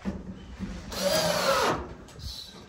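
A power drill whirs for just under a second while it drives a screw into an underdeck panel, close and loud between quieter handling sounds.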